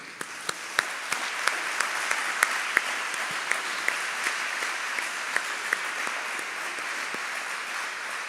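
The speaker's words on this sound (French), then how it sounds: "Nous pouvons vraiment applaudir tous les donateurs de Radio Maria." Steady applause from an audience celebrating Radio Maria donors at a 25th-anniversary gathering, dense clapping with a few sharper individual claps standing out, continuous and fairly even throughout.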